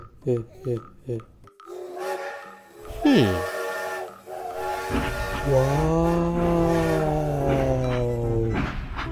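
A train whistle gives a long, sustained, slightly bending tone, heard after a few short rhythmic vocal sounds and a quick falling sweep, loud and close.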